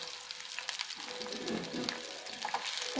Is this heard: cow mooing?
no